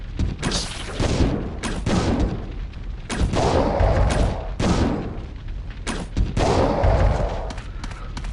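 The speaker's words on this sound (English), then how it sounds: "the fire crossbow bolts work so well on those guys" Fire crossbow bolts shot at enemies in the Resident Evil video game, heard as a rapid series of loud, punchy bursts and impacts, about a dozen, each followed by a crackling roar that fills the whole stretch.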